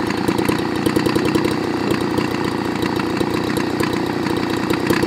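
A Homelite Bandit handheld blower engine idles very low, still running after the kill switch is hit: a steady, close, buzzing two-stroke putter with a rapid, even firing rhythm throughout.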